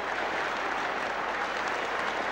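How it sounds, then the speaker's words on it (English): Cricket crowd at the Melbourne ground giving a standing ovation to Derek Randall as he walks back to the pavilion during the 1977 Centenary Test, dense continuous applause from a large distant stadium crowd. "Everybody here is standing up to give him a tremendous ovation as he comes back to the pavilion"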